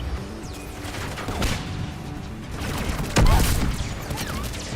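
A frag grenade explosion and gunfire in the video game Mass Effect: Legendary Edition, sustained rattling shots with a sharp loud blast partway through, close and dense, with some voices mixed in.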